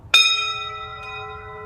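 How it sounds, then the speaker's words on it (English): A single struck school recess bell rings out once in an elementary school hallway, loud and bright at first, then settling into a long, steady metallic hum that fades only slightly, with faint room murmur beneath. "There goes the recess bell."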